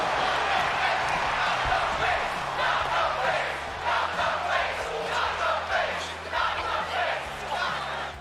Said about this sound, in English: Should you strike Carmella in the face or use a move that targets her head, then the crowd will begin to chant,